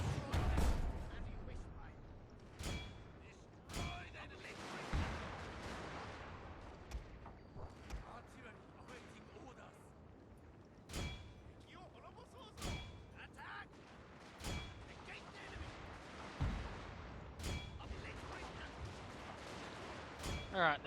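Musket volleys and artillery fire from Total War: Fall of the Samurai crack and boom in irregular bursts over a low battle rumble, heard from a distance, while someone talks now and then.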